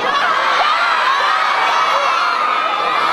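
A large outdoor concert crowd at a city anniversary celebration in Poza Rica screams and cheers continuously, a loud dense wall of shrill voices with no break.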